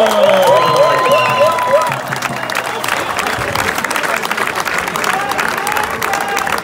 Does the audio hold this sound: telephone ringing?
no